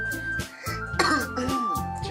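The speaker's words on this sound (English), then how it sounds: "Jeez, gotta clear my throat." A person nearby clears their throat with a few short, gruff coughs and rasps in quick succession, close and fairly loud.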